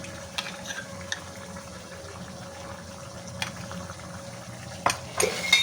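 Fresh cream being stirred into a chicken tikka boti kadhai, soft scraping and light clinks of a spoon against the pan over a steady low simmer, with a few sharper knocks near the end.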